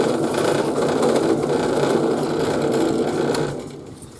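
Power drill boring holes into a bass guitar body, a steady mid-pitched whirring grind that holds for a few seconds and then winds down near the end.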